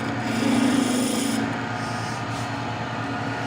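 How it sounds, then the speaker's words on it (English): A spindle roughing gouge cuts into wood spinning on a lathe, giving a steady close rubbing rasp with a low motor hum beneath, louder for the first second and a half and then easing to a quieter continuous scrape. "Spindle roughing gouge gets a lot of wood out of the way in a hurry."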